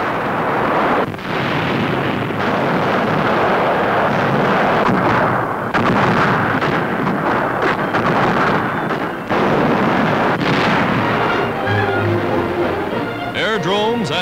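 Sustained, heavy bombardment of the island stronghold of Pantelleria in the Mediterranean, dense rumbling blasts and explosions running continuously through the stretch as loud archival newsreel battle sound.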